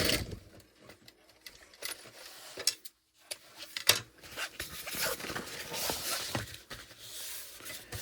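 A sewing machine backstitching a backpack seam, giving short bursts of rapid mechanical ticking and whirring, close by, broken by a brief pause near the middle before stitching resumes.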